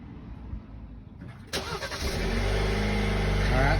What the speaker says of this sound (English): go ahead and start it.